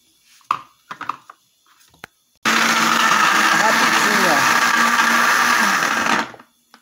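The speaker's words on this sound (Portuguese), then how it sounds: "Ó, já estamos passando o liquidificador." An electric kitchen blender whirs loudly through coconut for a pumpkin sweet, a steady grinding roar running for about four seconds, preceded by a few brief knocks and clicks, then cutting off abruptly.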